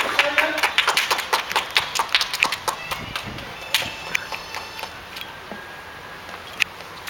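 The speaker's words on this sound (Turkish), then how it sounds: "Alkışlayın, alkışlayın." Rhythmic clapping along to a Turkish song, close and fairly loud with a quick steady beat that thins out and fades to scattered claps toward the end.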